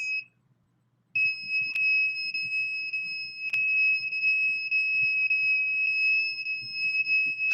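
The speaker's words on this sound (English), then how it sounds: "Now you could hear the alarm go down" A steady two-tone electronic alarm beeps continuously, loud and unbroken after a short gap at the start, with occasional sharp clicks and low background rumble beneath it.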